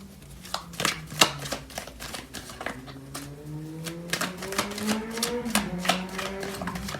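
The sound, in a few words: shuffling and pulling tarot cards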